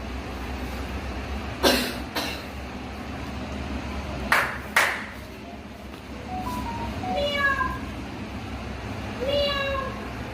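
A cat meows twice in rising, wavering calls near the end, preceded by a few sharp hand claps and knocks in a quiet room during a classroom listening exercise.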